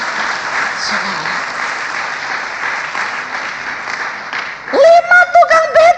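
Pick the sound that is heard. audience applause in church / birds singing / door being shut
audience applause in church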